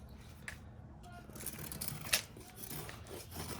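A knife blade carves feather sticks from wood, giving close, crisp shaving and scraping strokes in quick irregular bursts, with one sharper snap partway through and no talking.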